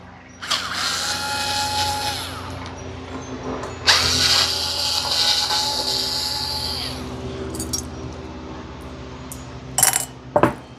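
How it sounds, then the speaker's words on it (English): A power driver whirs in two sustained bursts, backing stainless steel screws out of the blades of a 52-inch Hampton Bay Nassau ceiling fan, followed near the end by a few sharp metallic clinks. "I'll remove these screws for the blade."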